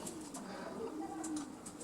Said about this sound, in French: Grand-père et père de bons pigeons.